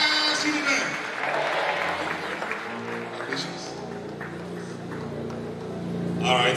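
Audience applause at a university faculty lecture ceremony, a moderate patter of clapping mixed with shuffling and voices talking over it, swelling again near the end.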